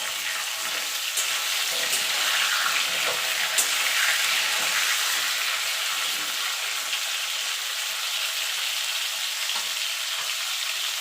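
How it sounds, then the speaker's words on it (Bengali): Pieces of pointed gourd (potol), salted lightly, fry in hot oil with a loud, constant crackling sizzle, broken now and then by small pops and stirring. "পটলগুলো আমি হালকা করে ভেজে তুলে নেব"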